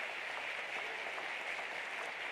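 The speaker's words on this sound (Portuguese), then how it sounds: "Palmas para Ele. Palmas para Ele." Church congregation clapping for God after a sermon, a dense, even patter of hands that holds steady throughout, moderately loud with no talk over it.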